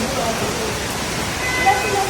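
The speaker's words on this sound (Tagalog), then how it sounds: "It's raining." Steady rain falls outdoors in Da Nang, Vietnam, a continuous even hiss of drops close by with no pauses.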